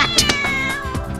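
A cat in an animated children's story meows loudly and close, a few drawn-out, wavering cries with no voices over them.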